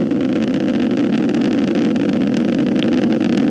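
An Atlas V 551 rocket's RD-180 engines throttle up during launch, a continuous, distant-sounding roar with a dense low rumble that stays steady and unbroken throughout.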